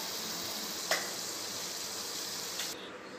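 Onion vadai fry in hot oil with a dense, steady hiss and crackle, close and continuous, broken by a couple of soft clicks.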